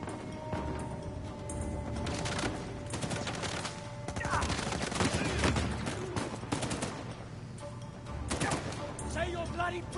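Rapid pistol gunfire in the Uncharted 4 video game, dense bursts of shots crackling over a busy game soundtrack, with a voice talking in places.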